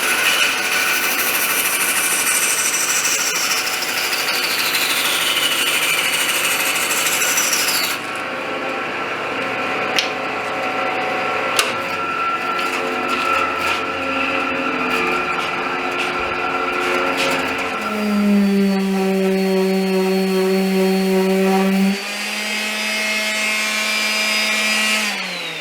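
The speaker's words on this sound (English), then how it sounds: "I'm just going to round this off on the bandsaw" A bandsaw cuts and rounds off a piece of wood for a boat-shaped shelf. The steady mechanical whine runs the whole time, with tonal shifts as the blade bites and then runs free, loud and close with no talk.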